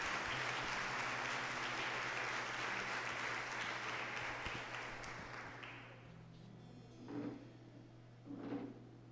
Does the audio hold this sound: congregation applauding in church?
yes